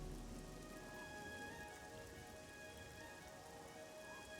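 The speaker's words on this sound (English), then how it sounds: "you'll hear the rain stop" Rain falling in the Morrowind video game, a steady, even hiss of raindrops on surfaces that holds unchanged throughout, faint and with no voices over it.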